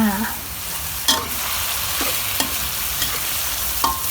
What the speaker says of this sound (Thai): แล้วก็ผัดให้หมูสุกแล้วก็ตามด้วยสตอค่ะ